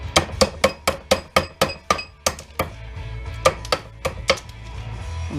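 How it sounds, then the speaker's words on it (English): A hammer taps brittle plastic from a scrapped fluorescent light fixture in a steady run of sharp, cracking knocks, close and loud, then a few slower, scattered taps. "Plastic is so brittle you can just tap it with a hammer."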